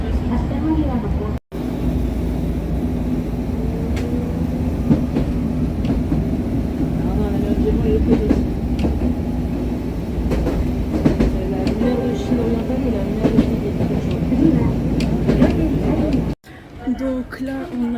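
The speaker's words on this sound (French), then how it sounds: "on a descendu de l'espèce de tram longue distance, ils appellent ça des streetcars" Steady rumble of a long-distance streetcar in Hiroshima, Japan, rolling continuously with faint rattles and clicks, while people talk over it throughout.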